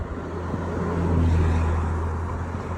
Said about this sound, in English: as you can hear behind me, there's also a lot of cars passing me every now and then